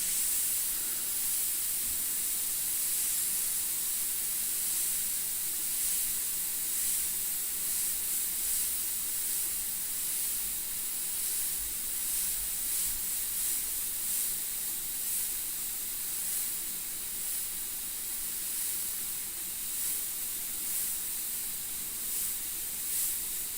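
Continuous loud hiss of a spray gun laying down 2K paint, steady and close throughout with slight pulsing in intensity.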